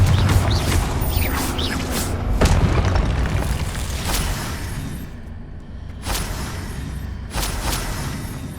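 Explosive Confringo spell blasts from Hogwarts Legacy boom and crash in a dense, loud barrage, with whooshing spell effects and sharp bursts recurring over a rumbling game soundscape.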